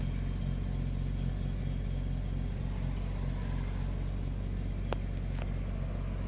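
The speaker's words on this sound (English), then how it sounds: "this car has aftermarket exhaust, so this car sounds a lot louder," A BMW M3 E36 engine with an aftermarket exhaust idles with a deep, throaty, steady rumble, loud and close, with a brief high click midway.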